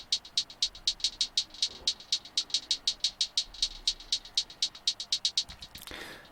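Steady, rapid hi-hat ticks pass through a short tape delay from the JST Soar plugin, giving a slightly offbeat triplet feel, crisp and fairly quiet, alone with a brief swell of noise near the end.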